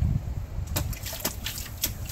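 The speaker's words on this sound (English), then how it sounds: "Whoa, look at you splashing." A small child splashing in a rain puddle, producing a few short, sharp splashes and sloshes over a low rumbling background, close and moderately loud.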